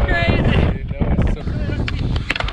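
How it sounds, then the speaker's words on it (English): Strong gusty wind buffets the microphone with heavy low rumbling in Borrego Springs, while people shout and talk over it. "It's so windy."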